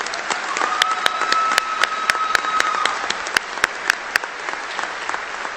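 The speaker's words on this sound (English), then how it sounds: "Let's give them another round of applause." Steady applause from a graduation commencement audience, dense clapping with a few sharper individual claps standing out, moderately loud and without talk.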